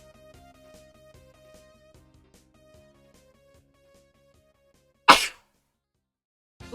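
A single sharp, loud sneeze cuts in after quiet background game music, followed shortly by a second brief burst of breath.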